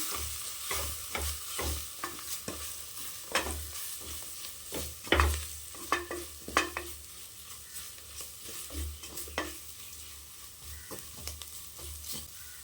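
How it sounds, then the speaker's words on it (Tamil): Curry and mutton masala powders fry in hot oil in a pan, with a steady close sizzle and repeated scraping strokes of a stirring spoon. "இதை நல்லா இந்த எண்ணெயிலே பறித்து விடுங்க"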